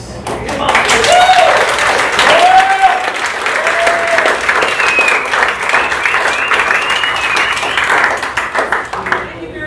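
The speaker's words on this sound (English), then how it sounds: "I think we should give a big round of applause to the board for the incredible job they did." A congregation claps loudly for the board at a Sunday service at Althea Center, steady applause filling nearly ten seconds with scattered voices and cheers mixed in before it fades.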